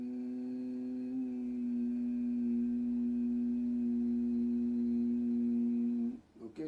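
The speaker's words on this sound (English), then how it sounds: "when we exhale, we make a humming sound" A steady, voiced humming tone held for about six seconds on a single exhale during Shanmukhi Mudra pranayama breathing, close and even, ending abruptly as the breath runs out.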